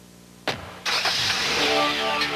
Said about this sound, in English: This engineer will spend the next 12 hours hurtling through the darkness in an Acura Legend sedan.